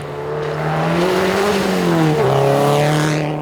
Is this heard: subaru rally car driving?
yes